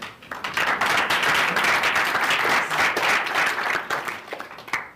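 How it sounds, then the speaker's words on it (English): Audience applause follows a talk by a startup co-founder, a dense, steady round of many hands clapping that swells quickly and holds for about five seconds before tapering off. "a quick round of applause"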